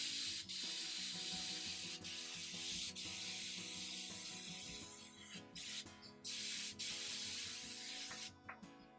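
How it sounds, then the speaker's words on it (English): An airbrush sprays orange paint in a steady close hiss of atomized air, broken by several short pauses and trigger releases, with no talking. "I'll try it on this airbrush just a little bit more."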